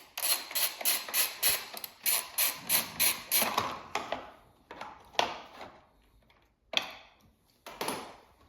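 Ratchet wrench backing a bolt off the fairing of a 2021 or later Aprilia RS 660, with a fast run of even, crisp clicks that slows to a few separated bursts near the end, close up with no talking.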